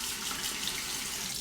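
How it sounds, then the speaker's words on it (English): Hot water pours steadily from a bathroom tap in a brief, close, continuous hiss of running water. "Under the hot water,"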